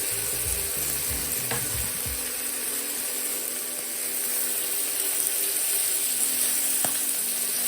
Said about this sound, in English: we can now add back our fried eggplants